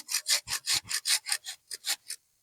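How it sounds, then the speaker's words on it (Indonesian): Hand saw cutting through a cassava stem: about a dozen quick, rhythmic rasping strokes, close and clear, which stop abruptly at the end. "Seperti ini, dapat kita garis menggunakan gergaji."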